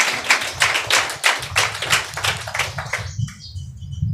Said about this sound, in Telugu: చప్పట్లు కొట్టి ప్రభును ఘనపరచుదుము గాక